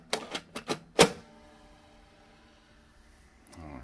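A Star Wars read-along cassette tape is pushed into a player, giving a quick run of four or five sharp plastic clacks close by, the last the loudest, then near silence with a faint rustle at the end.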